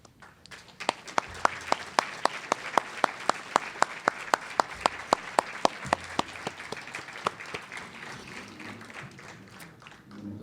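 An audience applauds alumni standing at an evening school event, with dense crowd clapping and one sharp, rhythmic nearby clapper, swelling then fading slightly over about ten seconds.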